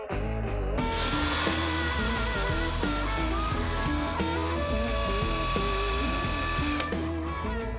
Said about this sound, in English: I think it might be time to break out the power tools.